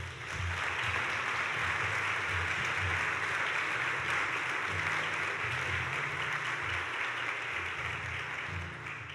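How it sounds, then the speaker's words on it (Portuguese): A church congregation claps steadily for the Lord during a Portuguese-language sermon, a sustained wash of applause at moderate level with a low hum beneath and no talking. "Então aplauda o Senhor por isso."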